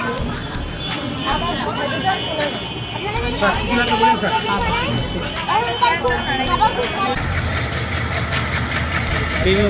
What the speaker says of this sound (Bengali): এটা একটা মাল ট্রেন